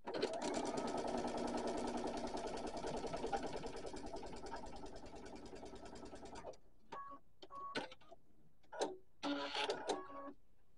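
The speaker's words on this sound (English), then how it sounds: "I'm going to quickly sew one to each of the sides." A sewing machine runs steadily for about six seconds as it stitches quilt fabric pieces together for a pineapple variation block, then stops, followed by a few short bursts of handling noise and fabric movement, close and with no voices.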